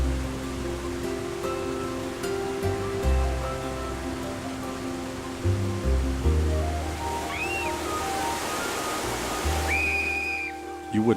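Broad steady rush of a waterfall pouring over an overhanging ledge, heard from the hollow behind the falling water, with constant spray noise, a few brief whistle-like tones and low thumps throughout.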